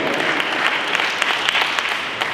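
An audience breaks into a round of applause for a speaker at an event, a loud, dense patter of many hands clapping continuously and close by.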